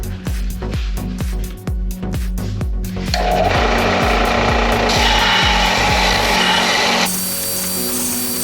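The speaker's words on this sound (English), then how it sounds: "I have put that on the belt sander and taken off some of the bottom." A belt sander grinds down a metal part for a 1992 Pontiac Firebird project, starting with several rhythmic passes before settling into a loud, continuous abrasive roar.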